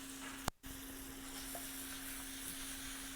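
Fresh torn spinach, lightly salted, sautés in a hot pan with a soft, steady sizzle. A faint hum sits underneath, and one sharp clack sounds early on.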